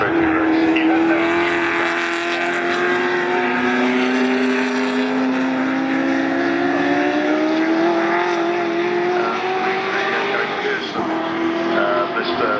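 Ford GT40 race cars at Silverstone roar past continuously, their loud engines rising and falling in pitch as they shift and accelerate, with a sustained dense drone throughout.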